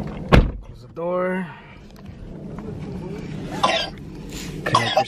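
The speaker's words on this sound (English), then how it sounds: "close the door." A BMW F30 335i car door shuts once with a single sharp, close thump near the start, followed by a brief tonal hum, a cough and quieter cabin sounds with people talking.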